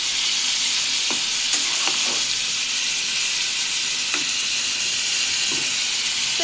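Chicken pieces frying in a pan, a loud dense hissing sizzle that holds steady throughout, with a few faint scrapes of stirring beneath it.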